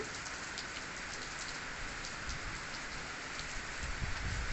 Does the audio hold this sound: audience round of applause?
no